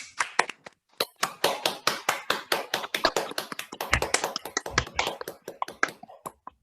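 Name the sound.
applause for the guests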